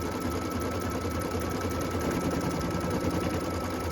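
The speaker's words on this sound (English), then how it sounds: "let it finish stitching around the box and the rest of the fold lines" A sewing machine runs continuously, stitching the fold lines of a 3D ornament box with a fast, even mechanical chatter that is close and steady throughout, with no talking.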